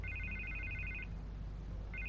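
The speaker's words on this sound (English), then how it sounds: "I can't get the phone to stop ringing." A phone rings in the Batman Telltale Series video game, two-tone trilling bursts for about a second, then a pause before the ring starts again, over a steady low background hum.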